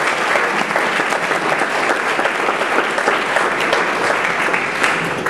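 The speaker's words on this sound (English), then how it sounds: "give yourselves a round of applause" Loud, close audience applause at an accreditation feedback meeting, dense continuous clapping from a roomful of people holding steady throughout.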